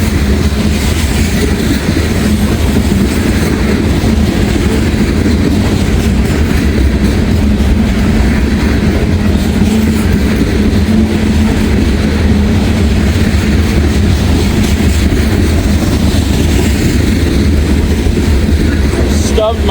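A train rolls past nearby, with a continuous loud rumble and rhythmic wheel clatter that holds steady throughout with no break.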